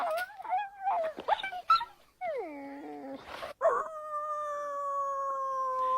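Adult wolves whimper to each other in a friendly greeting, a series of high, wavering whines and yips followed by longer sliding whimpers, close and fairly clear against a quiet background.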